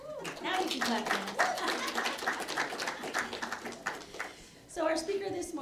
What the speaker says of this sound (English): Now you can clap hands.